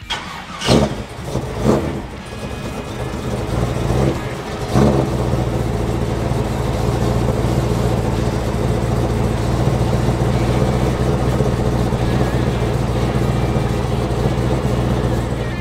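A 1957 Chevrolet Bel Air's engine fitted with twin side-draft carburetors cranks over, catches, and settles into a loud, steady, rumbling run close by.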